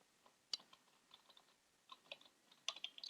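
Rapid, uneven keystrokes on a computer keyboard, entering location names into a training plan template, close and fairly quiet with irregular clicks and a few sharper taps.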